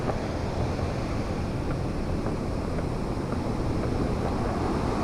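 Loud, steady rush of fast-flowing floodwater pouring over a road at Caliraya, Lumban, Laguna, a continuous broadband roar close by with no voices.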